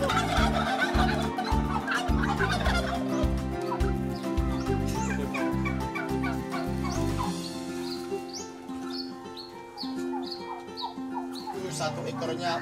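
Turkeys gobbling and clucking on a village turkey farm in Kudus, Indonesia, with loud repeated gobbles and bird calls under continuous narration, and someone speaking over the flock.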